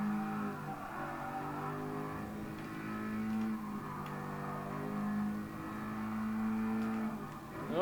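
A Toyota GR86 in Gran Turismo Sport drives along with its engine note rising and falling through gear changes, a moderate synthetic drone with tonal swells, no talking.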